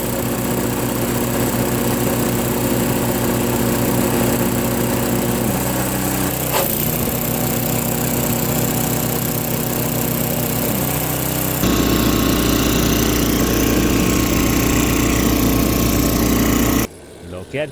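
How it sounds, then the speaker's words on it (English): A Noma Murray snow blower's gasoline engine runs loud and steady with a constant droning roar, briefly shifting pitch midway, then rising in load before cutting off abruptly near the end. "Usually one pull will start the engine."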